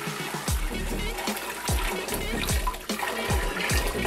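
Hot water pours into a giant stock pot, a churning, splashing flow with a few heavier surges and sloshes, close and fairly loud, without talking.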